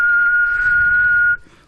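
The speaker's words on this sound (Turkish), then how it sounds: "Aynen ıslıkla çalıyoruz." A man whistles a single clear sustained note, loud and steady for over a second before cutting off abruptly into a faint breathy tail, with no talking.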